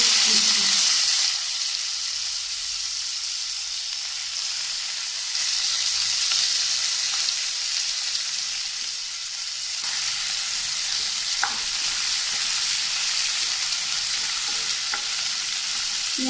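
Chopped onion sizzles and hisses steadily in mustard oil with whole cumin, loud and close, with occasional stirring over the continuous frying.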